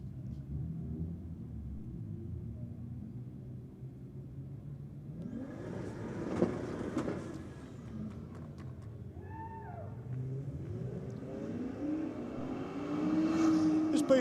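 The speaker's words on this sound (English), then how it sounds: "All right, we've got the BMW convertible back out," At a drag-strip race event, a BMW convertible lines up against a Commodore; engine revs and rising acceleration roars sound from a moderate distance, with background voices mixed in and the engines growing louder toward the end.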